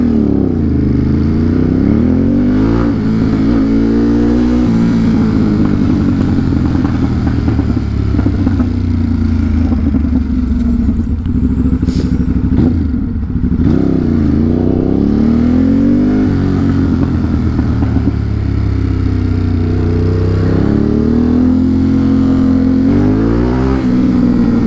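A motorcycle rides fast through Brooklyn streets, its loud close engine droning and revving steadily with rising and falling pitch, plus rattles and wind noise throughout.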